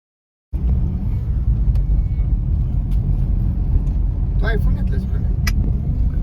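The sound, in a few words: car driving, riding inside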